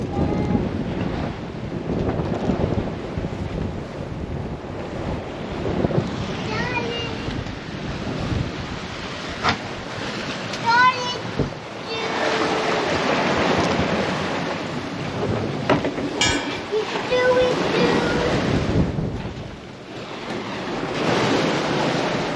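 Ocean waves rush and slosh around a sailboat underway in big, long-spaced swells, with steady wind buffeting the microphone throughout and occasional splashes and creaks, loud and continuous.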